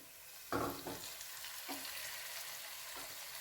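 Ginger, garlic and tomato sizzle in a hot pan with a few scraping stirs, a sharp hiss at first that settles into steady close frying.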